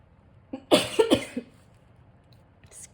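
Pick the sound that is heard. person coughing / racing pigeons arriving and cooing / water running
person coughing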